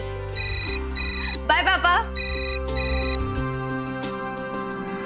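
A repeating electronic phone ringtone chimes in short bursts while a voice speaks briefly over it, close and clear.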